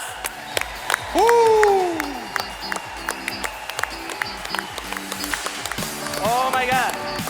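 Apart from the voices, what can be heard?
conference audience applause for new managers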